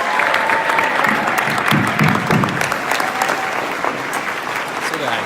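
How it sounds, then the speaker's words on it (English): A live audience at a Los Angeles stage interview event breaks into loud, sustained applause, thick clapping with some crowd noise that eases slightly toward the end. "give Mao a big round of applause."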